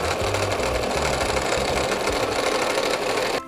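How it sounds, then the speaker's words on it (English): A sewing machine stitching across the pleats of a pillowcase apron, a fast, steady mechanical whirring chatter running continuously at close range before stopping abruptly at the end. "Sew across the pleats with a 1/4 inch seam allowance."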